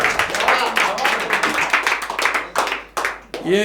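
Audience at a stand-up poetry show applauding in a dense, sustained burst of clapping, fairly close and loud, with brief lulls and a voice speaking over it toward the end.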